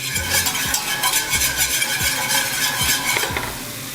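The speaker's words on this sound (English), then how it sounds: "So we're gonna whisk this butter and flour into kind of a paste." Butter and flour whisked into a paste in a pan, a steady rhythmic scrape and stir of the whisk against the metal with a soft sizzle underneath and no talking.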